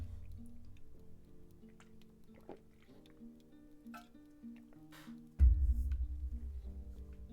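Water drips in the video game Tombwater, scattered small plinks over a low musical drone, followed by a sudden heavier splashing burst near the end.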